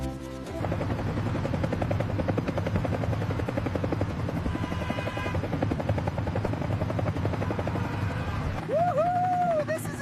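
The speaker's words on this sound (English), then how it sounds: "Our helicopter will be ready soon." Cartoon helicopter whirring steadily and loudly with a buzzing rotor drone throughout, joined near the end by a rising and falling whistle-like tone.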